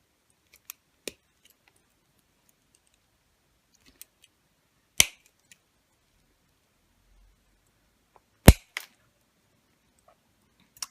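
A small cutting tool snips through a wool-wrapped Christmas tree card, giving a handful of sharp, isolated clicks and cuts spread apart, two of them louder and close, with quiet pauses between.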